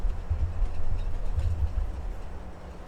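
A train engine in Farming Simulator 22 drones low and steady with pulsing bass throbs, fairly close and loud, fading slightly at the end.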